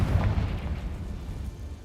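A Confringo fire-blast spell explodes in Hogwarts Legacy, a heavy low boom with a rumbling tail that fades over about two seconds.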